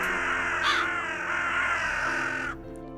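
Crows caw in a harsh, loud sound effect played during a livestream, a dense, rasping call that carries for about two and a half seconds before cutting off abruptly.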